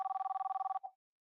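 An incoming WhatsApp call rings on a computer as a steady, rapidly pulsing electronic tone that runs for under a second, then ends with a short trailing blip before silence.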